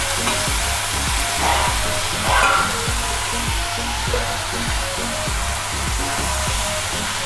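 Idli and tomatoes frying in oil in a pan, a loud continuous sizzle with an underlying low rhythmic rumble, steady and close, no voices.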